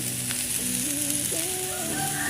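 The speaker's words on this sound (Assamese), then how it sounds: "এয়া আলু ভাজি বনাই আছোঁ মই" Potatoes frying with plenty of onion in a pan, a steady close sizzle running throughout, with faint tonal hums and background sounds over it.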